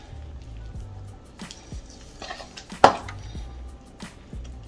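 Soft wet squishing and scraping as blueberries are folded by hand into batter in a bowl, with a sharper knock of the utensil near the middle; the sounds are close, quiet and irregular, with no talking.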